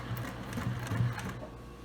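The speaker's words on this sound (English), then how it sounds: "now I'm going to start to sew" Sewing machine stitching fabric for a ring bag, a steady close mechanical whir with a fast needle rhythm, moderately quiet, no talk.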